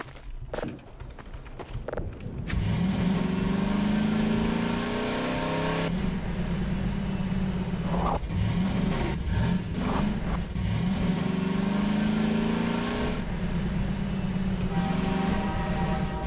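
Engine of a drivable buggy in the video game Half-Life 2, revving up and holding a steady droning pitch that shifts as it accelerates, with a few clunks and bumps along the way and no talking.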